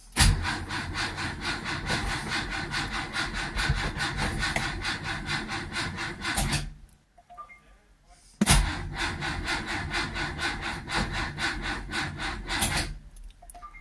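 A petrol engine is cranked by pull-start in two long raspy bursts of about six and five seconds, separated by a short pause, and it does not catch.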